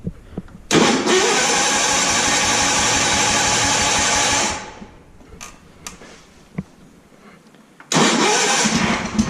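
A tractor engine is cranked and started without full choke, two loud cranking bursts a few seconds apart separated by a quieter gap with clicks, the starter grinding close by.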